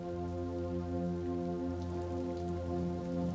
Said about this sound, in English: the red tinted rain thrashed in torrents across my old pickup truck and Cheryl's baby blue Volkswagen.